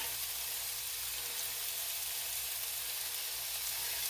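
Chicken for Thai-style sweet chili chicken fries in a pan with a soft, constant sizzling hiss, steady and unbroken throughout, with no voices.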